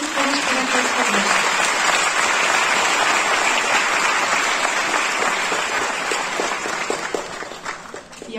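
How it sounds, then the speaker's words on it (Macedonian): Sustained audience applause for a dance ensemble at an ethnic folk performance, a dense, loud wash of clapping that holds steady for several seconds before thinning and tapering off toward the end. "ве молам да ги поздравиме со еден огромен аплауз"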